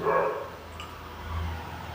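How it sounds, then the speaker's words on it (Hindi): A distant dog barks once, faint and muffled from somewhere behind the room, then a low hum continues. "पीछे जो डॉगी भौंक रहा है ना उसकी आवाज आ रही है"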